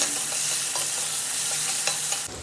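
Onions fry in a pan with a constant bright sizzle while a utensil stirs them in short scraping strokes, close up and with no voices.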